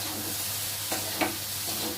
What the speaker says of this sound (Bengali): দেখো এবার একটু নেড়ে দেবো।